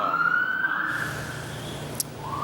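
An ambulance siren wails near Liverpool Street station in London after the 2005 bombings, a loud rising and falling tone sweeping steadily over street traffic noise, with a brief sharp click near the end.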